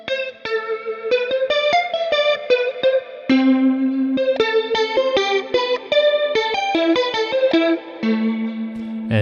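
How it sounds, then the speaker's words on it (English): Guitar sound from an Ableton Live pack run through rotary speaker emulation, a busy plucked melodic line with a swirling, wavering chorus-like shimmer, loud and close with no voices. "This is emulating a rotary speaker."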